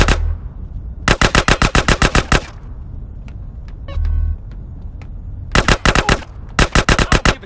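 Video-game gunfire in GTA San Andreas: loud, rapid automatic bursts, one lasting over a second, then a quiet gap with a brief rumble and a single sharp crack, followed by two more quick bursts.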